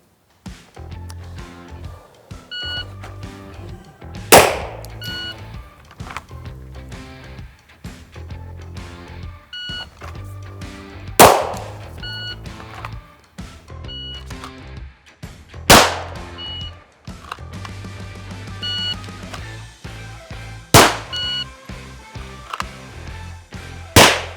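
Handgun shots fired one at a time during a precision shooting drill, each a sharp loud crack followed by a short ring, spaced several seconds apart over a low background of shuffling and handling noise.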